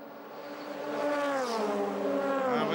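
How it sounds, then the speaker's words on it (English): DTM silhouette racing cars with 400-horsepower V8 engines at Spa, a close, loud engine howl whose pitch rises and dips as the cars speed past. "Silhouette racing cars with their V8 engines pumping out 400 horsepower are pretty difficult to handle around Spa"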